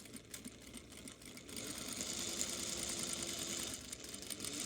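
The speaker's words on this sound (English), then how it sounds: "I'm just gonna sew just kind of in the middle of the raw edge" Sewing machine stitching through the raw edge of a seam with piping: a steady mechanical whir and rapid needle clatter that starts up softly and runs close and continuous, with no speech.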